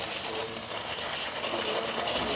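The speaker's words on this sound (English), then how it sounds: "Nice steam coming out from this new steamer." A Saeco Xelisis espresso machine's steam wand releases a steady, loud broadband hiss of steam under pressure, continuous and close throughout.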